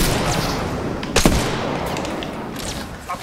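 Sniper rifle fire in the Apex Legends video game, a single sharp loud report near the middle over a steady background of game noise and distant gunfire.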